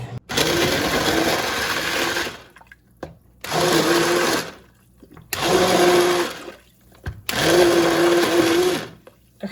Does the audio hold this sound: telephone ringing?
no